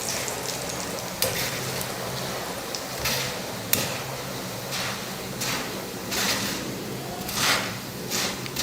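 Steady crackling sizzle of flattened rice frying in hot oil for a mixture snack, with occasional louder bursts and light clinks of a utensil throughout.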